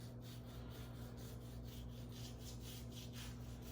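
A knife draws in repeated rhythmic strokes as the fat cap is trimmed from a 19-pound beef brisket. The rubbing, scraping sound is faint and close, over a steady background hum.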